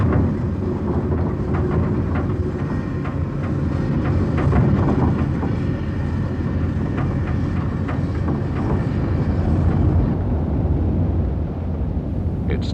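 Steam locomotive 3801 stands with its train at Cook on the Nullarbor plain, giving off a continuous broad hiss and rumble that stays steady and fairly loud, with some wind noise and a slight drop toward the end.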